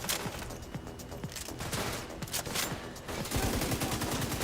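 Sustained gunfire in The Division 2, with dense overlapping shots and rapid bursts filling the whole stretch, loud and continuous with no speech on top.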